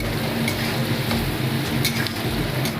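Thinly sliced ginger and garlic frying in a pan give a steady, dense crackling sizzle. It carries on evenly throughout and sits close and alone, with no voices.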